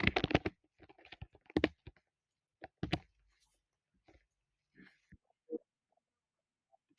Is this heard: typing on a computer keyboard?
yes